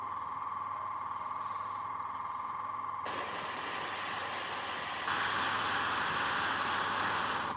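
An airbrush sprays paint onto a Warhammer miniature, giving a steady close hiss that gets louder partway through and stays constant with no talking.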